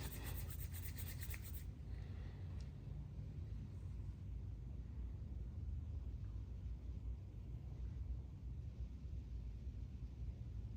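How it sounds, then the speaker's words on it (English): Hands rubbing together to warm up before a face and head massage, a soft continuous brushing friction, close and quiet, with no speech. "This is the technique I was telling you where we can rub our hands together. Try and get them warm."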